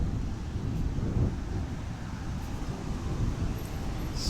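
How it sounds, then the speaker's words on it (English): Strong gusty wind outdoors beside a road, a dense low rumble of wind against the microphone mixed with steady traffic noise, continuous and fairly loud with no speech. "Super windy out today."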